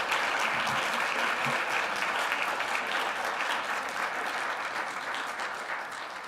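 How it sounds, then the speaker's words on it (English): An audience applauds a discussion panel at a forum on race and justice, steady dense clapping filling the whole stretch at close range and fading slightly near the end, with no talk over it. "give this panel a hearty round of applause"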